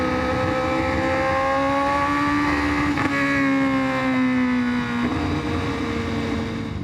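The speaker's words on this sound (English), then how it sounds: "It's the weirdest thing though when you want to twist the throttle and nothing happens." A Honda CBR1000RR-R superbike's engine drones at steady throttle with a brief hesitation, its harmonic whine holding flat, dipping and shifting, loud and continuous with wind and road noise underneath.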